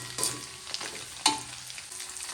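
Anchovies (ikan teri) frying in a pan, a steady faint sizzle broken by a few sharp clicks and scrapes of stirring, with no voices.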